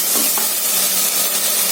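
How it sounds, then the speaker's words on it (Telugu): Vegetables being stir-fried in a hot pan with soy sauce and chilli sauce for Chinese manchow soup, a steady loud sizzle with a couple of brief stirring scrapes near the start. "ఒకసారి ఫ్రై చేసేద్దాం, కలిపేసేద్దాం."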